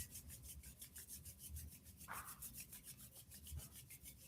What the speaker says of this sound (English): go on and rub your palms together, creating some warmth